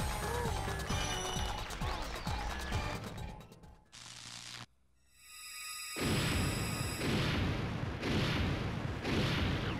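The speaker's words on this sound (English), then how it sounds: "That explosion should probably hurt us, to be honest." A cartoonish explosion blasts Lord Crump away in the Paper Mario: The Thousand Year Door boss fight, a loud burst that is preceded by a busy stretch of game sound effects and then sustained.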